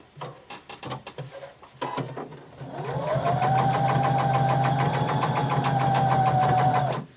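A sewing machine top stitching along a dart on denim for a McCall 6361 garment, starting with a few rattling clicks and short bursts before settling into a loud, steady, close whirring run that stops near the end.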